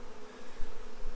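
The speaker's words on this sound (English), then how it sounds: "They seem to be really good bees." A transferred honey bee swarm buzzes softly and steadily in a continuous low drone, faint and close, with no voices over it.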